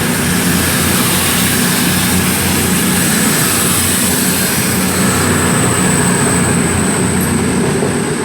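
Class 220 unit 220033 passes through Cheltenham Spa station, a loud, steady rumble and roar held close for the whole stretch, with a high whine over it.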